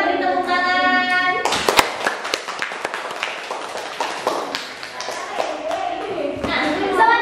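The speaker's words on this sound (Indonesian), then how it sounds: "Yuk kita beri tepuk tangan." Students in a classroom break into scattered, sustained clapping for a group's presentation in an Islamic religious education class, starting right after a teacher's voice and carrying on with light chatter mixed in.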